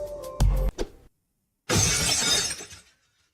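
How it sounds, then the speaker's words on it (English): Glass smashes in the Z.A.T.O video game: a few sharp knocks, then a loud bright shatter with scattering shards that fades out after about a second. "That's not really a big smashing sound."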